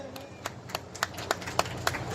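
Scattered, sparse hand claps ring out in a loose, roughly regular rhythm over faint background murmur, a small group applauding guests at a community remembrance ceremony in India.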